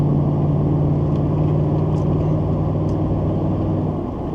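A truck with a swapped 6.2L engine and Fox suspension cruising on a road, a loud, steady engine drone and road roar throughout with a constant low tone, heard from inside the cab.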